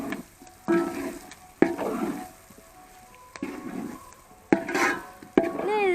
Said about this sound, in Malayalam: ഞാൻ ഇളക്കിയെടുക്കാം.